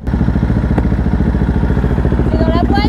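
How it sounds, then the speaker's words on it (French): A motorcycle engine chugs loudly and steadily at close range inside a tunnel, a dense rhythmic mechanical rumble throughout, with brief higher tones near the end. "il y a le bruit du moteur"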